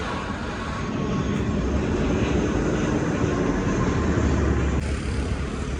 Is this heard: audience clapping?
no